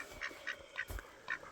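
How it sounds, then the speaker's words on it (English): Ducks in a small homestead pond in the woods, a string of short nasal quacks repeating every fraction of a second, fairly close but quiet over a soft outdoor background. "The ducks are going in the pond."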